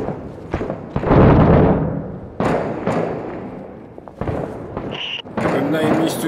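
Explosions in the video game Six Days in Fallujah land as a series of heavy, booming thuds, several in a few seconds, loud and close, with voices mixed among them.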